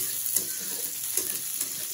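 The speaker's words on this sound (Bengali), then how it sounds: "পেঁয়াজটা হালকা করে ভাজবো, বেশি কড়া করে ভাজবো না।" Onion frying in a pan with oil, a steady soft sizzle interrupted by a few brief stirring scrapes, close and fairly quiet.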